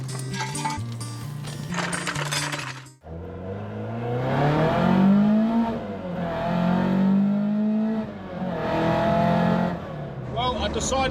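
A Ford Escort Mk2 driving, its engine rising and falling in pitch through several gear changes, loud and close from inside the car, after a short burst of other noise at the start.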